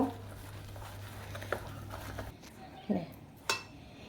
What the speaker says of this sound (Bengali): গরম জলটা দিলে ভালতারে মাখিয়ে নেব